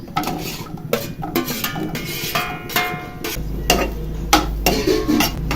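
Onions added to hot oil with curry leaves in a pan and stirred, giving repeated metallic spoon clanks and scrapes over a steady background sizzle, with no voices.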